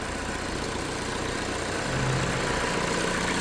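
EZG HP20 grout pump engine running steadily at close range, a loud constant mechanical drone with a slight rise in pitch and level partway through.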